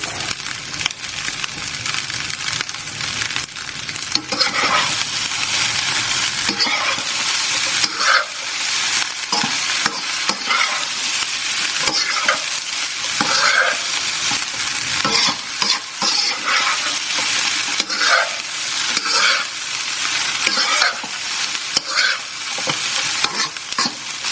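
Thai fried rice with green onions is stir-fried in a pan, with steady loud sizzling and constant scraping and clinking of the spatula against the pan throughout, and no talking.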